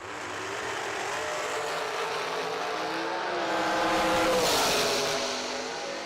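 Drag race cars roar down the strip at an NHRA-style event, a sustained loud engine howl that swells and peaks around the midpoint as the cars pass.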